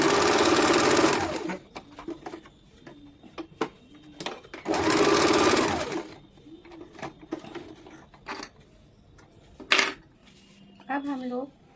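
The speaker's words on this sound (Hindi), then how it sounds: "फिर से सिलाई कर लेंगे।" A sewing machine stitches a baby frock in two loud, close bursts of steady whirring, with softer clicks and handling knocks between runs.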